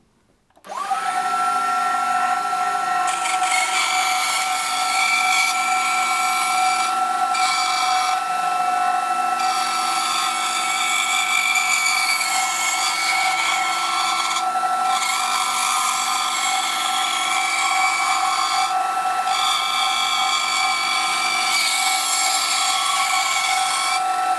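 A power saw cuts pallet wood along a guide while building a wall clock, giving a loud, steady whine that starts abruptly and holds unbroken to the end, with no voices.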